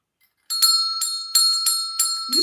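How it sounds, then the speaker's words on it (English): A small bell struck five times in quick succession, bright and ringing, each strike close and clear with a short decay. "Who saw me ring the bell?"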